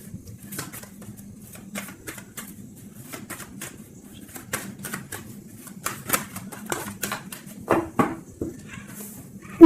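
A deck of tarot cards is cut and shuffled close by, giving irregular soft flicks and papery snaps over a low hum, with a few louder slaps toward the end.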